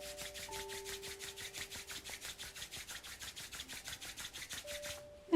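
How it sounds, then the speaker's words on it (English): Palms rubbed briskly together during a seated yoga session, a close, steady rhythmic swishing of skin on skin, about four strokes per second, heard alone in a quiet room. "Start rubbing your palms against each other."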